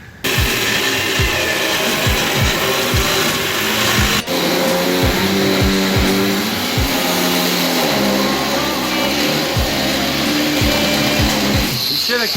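Car exhaust revving loudly and close by, a continuous roaring drone with rhythmic pulses throughout and one brief dip midway.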